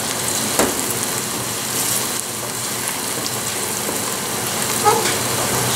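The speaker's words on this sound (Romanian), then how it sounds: "Și mai lăsăm un pic 2-3 minute până când se călesc ceapa și zahărul" Onion and sugar with sweet paprika sautéing in a pan, a continuous moderate sizzle with faint stirring clicks throughout, no voices.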